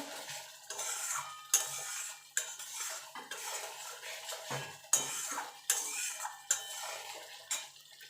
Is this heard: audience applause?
no